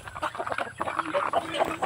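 Ducks quacking in short, nasal bursts at close range, with a few overlapping calls mixed with low background voices.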